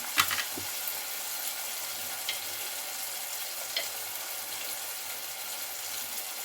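Ginger garlic paste with mint and chopped tomatoes frying in a pan for bagara rice, giving a faint steady sizzle with a few soft stirring clicks and scrapes, no talking.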